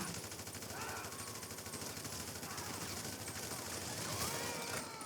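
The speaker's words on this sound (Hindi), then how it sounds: "तो वैसे हमारे पे फायर आ चुका है, कोई टीम आ चुकी है।" Rapid gunfire in a GTA 5 gang attack, dense sustained bursts over game ambience and background noise, with a voice talking over it.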